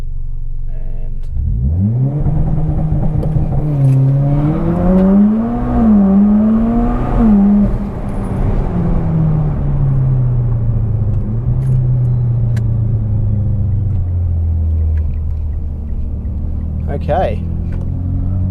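A car fitted with a new turbo launches hard under launch control for a 0-100 km/h run, its engine roaring loud and near as it climbs through gears, then settling into a steady rumble while a person talks.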